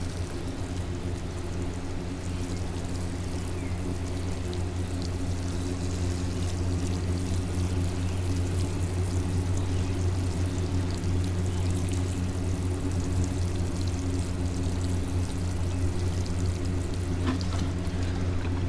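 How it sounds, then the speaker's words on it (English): Water pours and trickles steadily onto soil in a potted sweet potato plant for most of the clip, with a low hum underneath and no talking. "Now we need to water it in."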